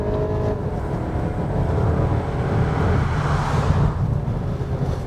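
A Volkswagen Passat 1.8 TSI petrol car accelerating hard in S mode, its engine note rising steadily to near the red line. A continuous, loud interior drone and road rumble run without pause, with no talking.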